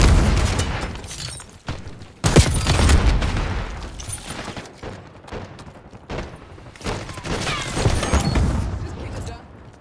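A Semtex grenade blows up amid rapid gunfire on the Liberty Falls zombies map of Call of Duty Black Ops 6, with loud booms and bursts of shots repeating over several seconds while voices speak.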